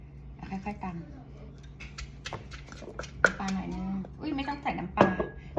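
Som tam papaya salad pounded lightly in a mortar with tomatoes and lime, giving irregular knocking and clinking hits near at hand, mixed with kitchen clatter while people talk throughout.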